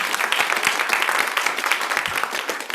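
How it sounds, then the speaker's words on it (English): An audience at an awards event claps steadily for the whole stretch, a dense, close wash of many hands with no break and no talk over it. "Can we get a round of applause for that?"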